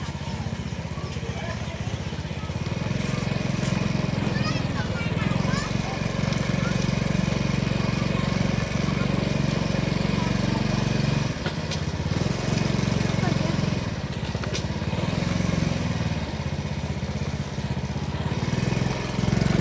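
A motorcycle engine runs steadily nearby for the whole stretch, a continuous low drone with small dips, while people talk over it.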